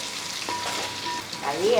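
Ingredients being sautéed in a pan, a steady broadband sizzle and crackle of hot oil running throughout at close range, with a few faint scraping stirs mixed in.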